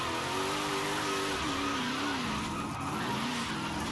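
Forza Horizon 5 wagon sliding backwards into a corner, engine droning with a wavering pitch under a continuous smeared tire squeal, steady and loud throughout with no talking.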